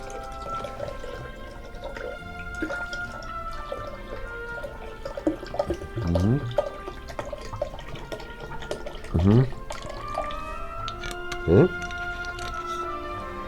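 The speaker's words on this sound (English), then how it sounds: "And we'll add a cup of spring water" A cup of spring water is poured for a kiwi green smoothie, with soft trickling and a few short gurgling pours under quiet background sounds, and no speech.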